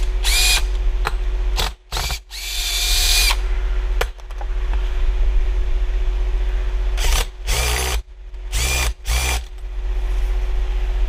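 Power screwdriver backing screws out of an RV's rubber roof, with several short whirring bursts and one longer run against a steady low hum.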